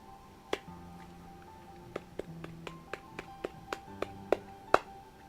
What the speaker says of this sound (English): I don't know why I'm playing with the suction cup that I got from iFixit for my phone repair.